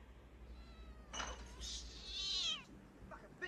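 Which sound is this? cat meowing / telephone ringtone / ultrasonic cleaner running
cat meowing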